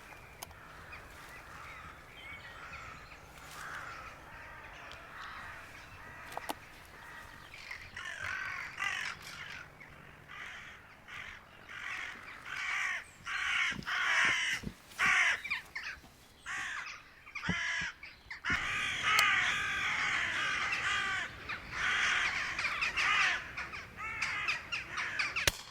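Crows caw repeatedly during a crow hunt over decoys in open fields, harsh overlapping calls building from sparse and moderate to a dense, louder chorus with a few sharp bursts.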